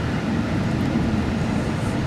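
A train passing nearby outdoors at sunset in Merseyside, a steady broadband rumble of wheels on rails holding at constant loudness with no voices.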